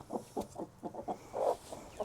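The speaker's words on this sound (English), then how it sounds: "Oh, Buddy's got in the chicken coop." Wyandotte chickens clucking inside a coop, a run of short rhythmic clucks with one louder, drawn-out call near the end, close and clear with no talking.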